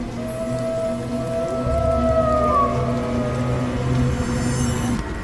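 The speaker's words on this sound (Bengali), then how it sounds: "দূরে শোনা গেল শিয়ালের ডাক।" A jackal howls in the distance on a cold winter night in a rural Bengal village, a long wavering cry over the steady patter of light rain.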